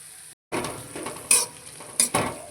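Onion, capsicum and tomato tossed into spice paste and stir-fried in a pan: a soft hiss of frying, then scraping stirs with two sharp clanks of a utensil against the pan, close up.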